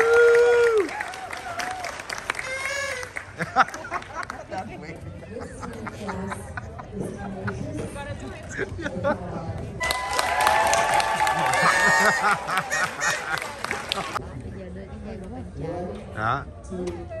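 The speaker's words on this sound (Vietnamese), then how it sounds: "Bây giờ vỗ tay." A graduation ceremony audience applauds in a gymnasium-like hall, with steady clapping and crowd chatter, cheers rising partway through, and people talking nearby over the noise.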